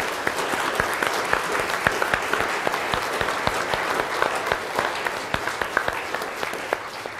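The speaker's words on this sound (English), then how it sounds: "let's welcome these new members, first with applause" A church congregation at a Sunday service applauds to welcome new members, a steady wash of many hands clapping with sharper individual claps standing out throughout.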